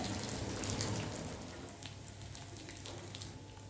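Fish fries in hot oil in a pan, giving a steady, close crackling sizzle like light rain that eases slightly partway through, with no talking.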